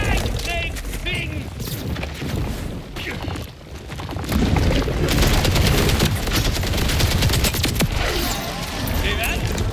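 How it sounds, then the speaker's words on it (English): Frag grenade thrown in Borderlands 4 amid heavy game combat: dense, loud bursts of gunfire and explosive booms run continuously, with a voice talking over the action. "Throwing a frag, big thing."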